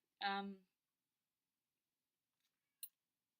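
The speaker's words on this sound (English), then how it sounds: "I don't know what Growler's meowing about." One brief meow, close and clear, then near silence broken by a faint click.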